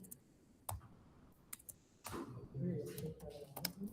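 Mouse clicks on a computer while a download link is selected for installing Python software, heard as a few sharp isolated clicks at close range over low background noise, with a voice talking in the latter half.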